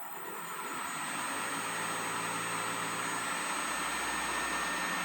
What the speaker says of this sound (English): So right now the motor is going 1420. That's about half speed right there.